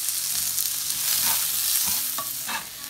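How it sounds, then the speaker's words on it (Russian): Onion, garlic and ginger sizzle loudly in a hot pan, with several brief scraping stirs breaking through the continuous frying hiss. "Обжариваем это все вместе около 1-2 минут"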